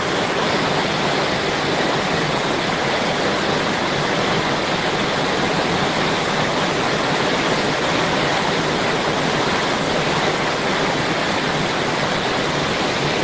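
Heavy rain pouring down, a steady, dense, loud hiss of falling water that continues unbroken and unchanging, with no voices over it.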